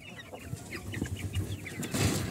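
Small Serama chickens, one male and two females, give soft repeated clucks and short chirping calls close by, overlapping in a busy, irregular chatter.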